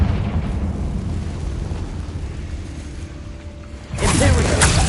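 A Confringo blast from Hogwarts Legacy's Ravenclaw wizard hits near the end as one sudden loud burst, breaking over a steady low rumble of game noise that came before it.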